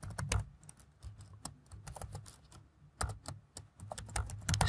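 Quick, uneven keystrokes on a computer keyboard, heard close and fairly quiet, with short bursts and brief pauses while someone enters text into a web form.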